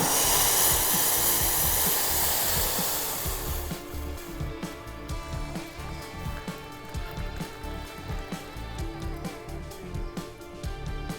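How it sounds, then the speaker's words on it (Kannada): Boiling water is poured into a South Indian coffee filter, starting as a loud rushing hiss that fades after a few seconds into softer trickling and light clinking. "ಈಗ ಈ ಕುದೀತಾ ಇರೋ ನೀರನ್ನ ನಾವು ಫಿಲ್ಟರ್ಗೆ ಹಾಕ್ಕೊಳ್ಳೋಣ"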